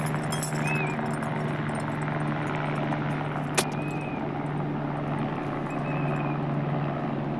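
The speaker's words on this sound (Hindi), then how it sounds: "गाइस ये देखो हेलीकॉप्टर आ रहा है सामने से" A helicopter approaches on a mountain pilgrimage trail on the Manimahesh Kailash route, a steady low rotor drone and engine hum carrying from a distance beneath outdoor background noise, with one brief sharp click partway through.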